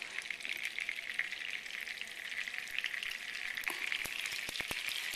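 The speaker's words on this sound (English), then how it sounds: "See it starting to sizzle." Chicken fat sizzles steadily in a hot pan as the base for a roux and pan gravy, a dense crackling hiss with a few sharper pops near the end.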